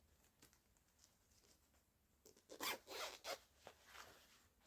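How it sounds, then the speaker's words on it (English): A zipper on a shimmery vinyl-like cosplay costume is pulled open in a few quick, rasping bursts after some quiet rustling. It sounds close but soft, and no one talks over it. "There's a zipper, if I can get it undone."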